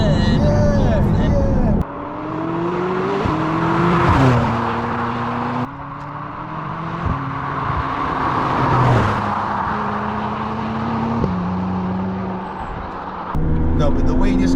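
A McLaren 600LT supercar engine pulls hard through several gears, each rising whine cut by a quick shift, loud and close from inside the cabin.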